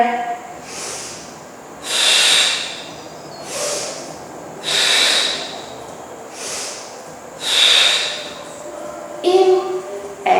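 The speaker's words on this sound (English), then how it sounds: "Inhale up, exhale over, inhale up," Slow, deep breaths during a seated chair-stool stretching exercise, with several long airy exhales and inhales spaced a couple of seconds apart, close and fairly soft.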